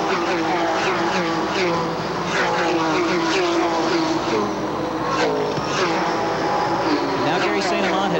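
Stock race cars in the 1991 ASA Western Auto 300 roar continuously at close range, with engine drone rising and falling as the field passes, under steady commentary.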